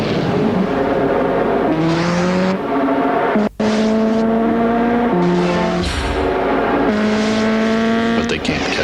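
A Nissan Turbo Z sports car's engine roars close and loud, its pitch climbing and dropping through repeated revs with a brief cut partway through, apparently mixed under a voice or music.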